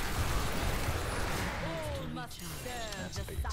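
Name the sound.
explosion in the video game Diablo 3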